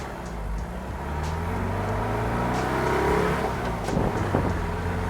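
A 1969 VW Beetle accelerates hard, its engine rumbling loud and steady, rising in pitch as it revs through gears over several seconds, with no talk over it.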